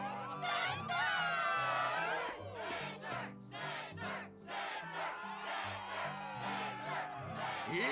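A fired-up in-game crowd at the Struggle tournament in Kingdom Hearts II roars and cheers continuously, loud and dense throughout, with a game soundtrack playing underneath.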